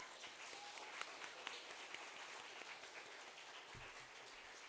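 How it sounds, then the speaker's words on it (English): Audience applause at the closing ceremony of a law school international negotiation competition, a steady wash of many hands clapping for the chairperson, fairly faint and distant, with a low rumble near the end. "Can we have another round of applause for our chairperson, please?"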